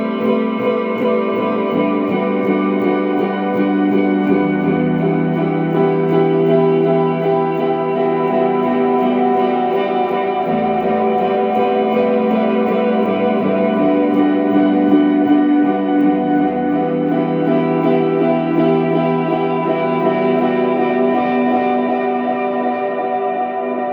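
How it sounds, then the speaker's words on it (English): Sustained guitar chords washed in long repeating delay and a big hall reverb, the notes smearing into a dense, shimmering wall of sound. "I think this is a really long delay."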